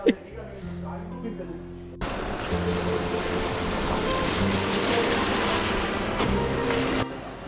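A gondola glides along a Venice canal, steady wash of water and wind rushing past the hull at close range, preceded by a quieter stretch with faint voices before the noise jumps in and later drops away.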